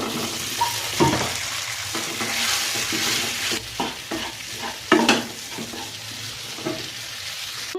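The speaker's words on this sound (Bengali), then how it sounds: "তেল গরম করে পেঁয়াজ আর রসুন দিয়ে দিচ্ছি, দিয়ে ভালোভাবে এখন একটু ভেজে নিব" Onion, garlic and mashed pumpkin bori fry in hot oil with a steady loud sizzle, broken by sharp scraping strokes of a spatula stirring the pan; no voices.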